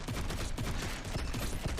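Constant rapid gunfire from shooting aliens in the mobile game ExoHunters: Galaxy forms a dense, unbroken barrage of shots that fills the whole stretch.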